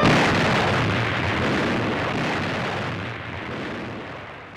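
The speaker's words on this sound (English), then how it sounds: "the Iowa's commander, Captain McCrae, orders her 9 16-inch guns to fire a mighty salvo" The battleship USS Iowa fires a salvo from her nine 16-inch guns on a testing cruise, producing a massive, loud, rolling roar that fades slowly over several seconds.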